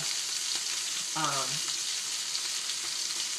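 Steak frying in a pan gives a steady, even sizzle throughout, close and moderately loud, with a brief tonal clink or squeak partway through and no talking.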